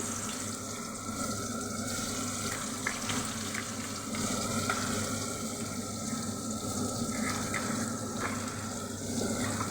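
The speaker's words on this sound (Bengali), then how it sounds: "ডিমের পেঁয়াজটাকে ভালো করে ভেজে নেব।" Onions fry in hot oil with cumin seeds. A dense, even hiss of sizzling continues steadily at close range, with faint clicks of stirring and no talking.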